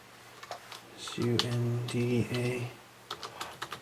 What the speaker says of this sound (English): I always take off the .mp4, and we'll type in something like ANOTHER